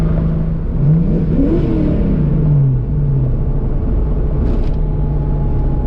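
A stock-ECU Ford 302 V8 with a GT40 upgrade runs close by, holding a steady rumbling idle with a brief rising then falling rev in the middle, loud with no talk over it.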